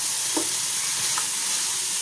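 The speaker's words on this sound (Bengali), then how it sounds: "এটাকে আমি আস্তে আস্তে করে এভাবে লাল লাল করে ভেজে নেবো" Quail meat frying in a pan for a spicy bhuna, with a steady sizzle and a couple of brief stirring scrapes, heard close and alone.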